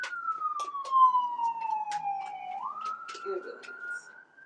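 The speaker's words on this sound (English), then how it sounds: "Two fire trucks." Fire truck siren wailing in a long descending sweep, then jumping back up to a steady high tone, loud and close over faint background noise.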